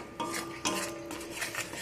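Spices and cabbage being stir-fried in a pan, heard as a few quiet metallic scrapes and clinks of a utensil against the pan, with soft background noise and no talking.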